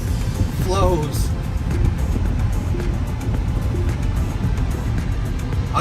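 A 2022 Tesla Model Y Performance electric car drives smoothly, giving a steady low road and cabin rumble with no engine note. Someone talks over the rumble.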